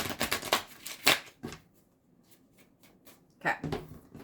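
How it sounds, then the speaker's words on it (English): A deck of tarot cards is shuffled up close during a card reading, with quick riffling bursts at the start, a quieter pause, then another short shuffle near the end. "1 more shuffle."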